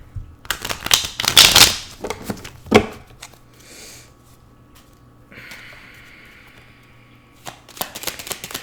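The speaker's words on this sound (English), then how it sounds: "Here, let me shuffle again." Brisk riffle-like shuffling of tarot cards, loud and close, in quick bursts, then quieter handling and a faint tonal hum before a final shuffle.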